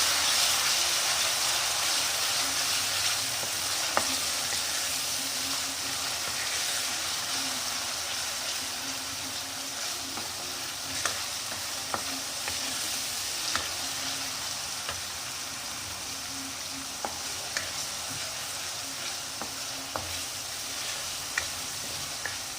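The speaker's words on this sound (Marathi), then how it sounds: "1 चम्मच लसूण अद्रक पेस्ट आणि याला परतून घ्यायचं" Garlic-ginger paste sautés in a pan for a moth bean curry, giving a long, even sizzle with scattered light ticks and spoon scrapes, no one talking.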